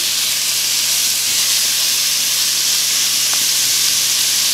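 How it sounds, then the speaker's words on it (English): Pork frying in a pan gives a steady, loud hiss and sizzle that runs unbroken throughout, with no voices over it. "So we are going to cook this meat"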